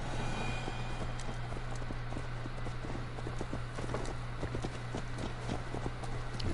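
A horse in Assassin's Creed Valhalla, its hooves clip-clopping in a quick, steady rhythm throughout over a constant low background hum.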